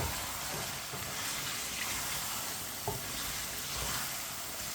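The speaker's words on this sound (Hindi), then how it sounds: "एक प्याली मटर डालेंगे, अच्छी तरह मिक्स कर लेंगे।" Peas and chicken stirred in a frying pan, a steady sizzle of frying under continuous scraping and stirring, fairly close, with a few soft knocks of the spoon.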